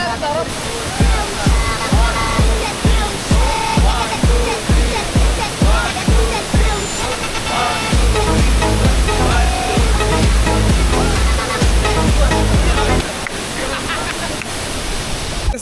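Hebbe Falls waterfall pours as a steady roaring wash of water, loud and continuous, with people talking over it and a rhythmic thumping layered on top.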